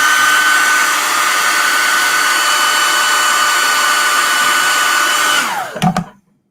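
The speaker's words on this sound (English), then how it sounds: "I'll hit that with a blow dryer." A blow dryer roars in a loud, steady whoosh with a whining tonal hum, close by, then winds down and clicks off near the end.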